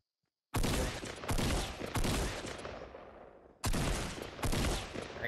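Gunfire in the video game Fortnite: loud, close bursts of rapid shots, four in all, each lasting under a second, with brief decaying gaps between them and no talk over them.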